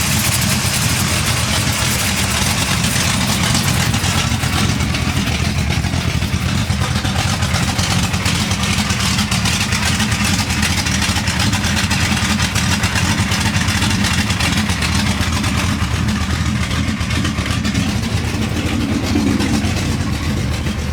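A 1970 Chevelle V8 idles while warming up, a steady, loud, close rumble with an even low drone that holds unchanged throughout, with no voices over it.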